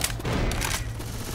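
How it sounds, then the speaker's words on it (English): Machine gun fire in the zombie shooter Left 4 Dead 2 comes as a rapid burst of loud, close, sharp shots that crowd together over about a second and a half. "Machine gun."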